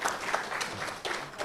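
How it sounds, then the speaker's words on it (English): Audience at a group discussion event applauding briefly, a short burst of scattered claps, moderately loud and close. "Please clap for him."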